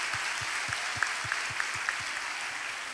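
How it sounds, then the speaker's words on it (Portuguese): A church women's gathering applauds after an offering announcement, a soft, even patter of many hands at a distance. A steady low rhythmic thump runs underneath throughout. "Pode aplaudir o Senhor."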